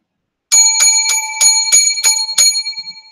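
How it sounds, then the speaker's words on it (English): Seven bright, ringing bell strikes follow one another at an even pace, loud and close, each leaving a short metallic shimmer before the next, with no voices. "7 lucky bells"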